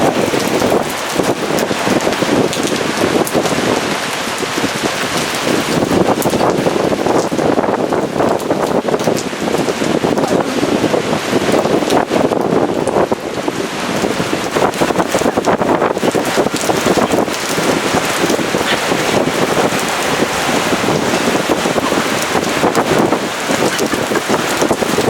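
Storm wind and heavy rain lash a beach during a tempest, a dense, continuous roar of gusts and rainfall that stays loud and steady throughout, with no voices.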